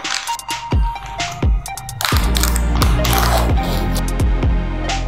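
A plastic package of ITC Mediterranean chicken kebabs is opened, giving several sharp crinkling and tearing bursts followed by steady rustling handling that stays close and fairly loud.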